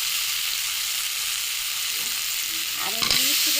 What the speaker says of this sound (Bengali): পেঁয়াজ ডাটাটা কষিয়ে নেব।